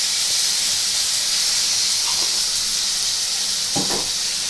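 Ghee sizzling in a hot pan while cooking a Bengali potato and paneer curry, a loud steady hiss filling the whole stretch, with a couple of faint clinks of a utensil.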